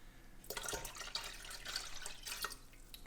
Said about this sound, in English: now we're going in with 2 cups of lemon juice